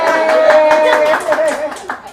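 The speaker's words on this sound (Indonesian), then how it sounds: "Itu tahu-tahuan dari siapa tepuk tangan begini?" Hands clap in a quick steady rhythm at a community gathering in Bekasi, Indonesia, close and fairly loud, under a voice talking over it.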